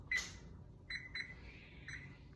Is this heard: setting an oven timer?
yes